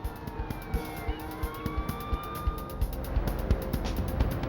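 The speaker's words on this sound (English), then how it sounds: "Only the sound of approaching sirens prevented the young woman from being seriously hurt." Wailing police sirens rise and fall at a distance, growing nearer, with a steady rhythmic thumping underneath.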